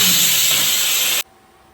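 A pressure cooker cooking rice releases a loud, steady steam hiss close up, which stops abruptly after about a second, leaving quiet room tone.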